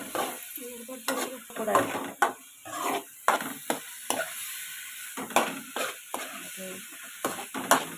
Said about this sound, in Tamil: குழம்பு மிளகாய்த்தூள் தேவையான அளவு போட்டு நன்கு கிளறவும்